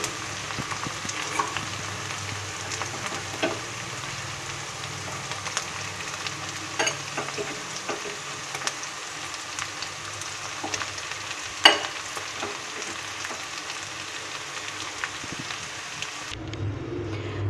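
Rice, mixed vegetables and dry fruits stirred in a hot pan for navratan biryani. A continuous close sizzle runs under frequent scraping stirs, with one sharper clatter near the middle and a sudden cut at the end.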